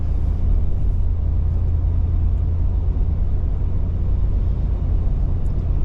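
A 2023 Ford F250 XLT Super Duty 4x4 pickup with the Godzilla V8 cruises along, giving a steady, low, loud road and engine rumble from inside the cab with no change in pace and no talk.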